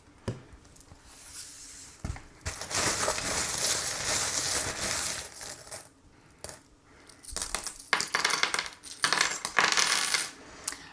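Small divination charms are cast and dropped onto a surface, giving bursts of loud metallic clinking and jangling in several clusters, with brief quieter pauses between the throws.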